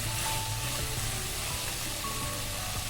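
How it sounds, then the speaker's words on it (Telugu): Masala paste sizzles loudly and continuously in a pan while it is stirred, making a dense steady frying hiss with faint stirring scrapes. The sound is close and there is no talking. "ఈ మసాలా వేసాక మాడకుండా ఇలా కలుపుతూ ఉండండి"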